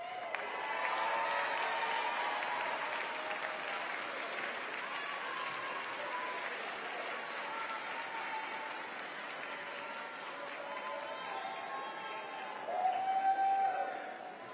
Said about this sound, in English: Graduating students, please stand and give those people a round of applause.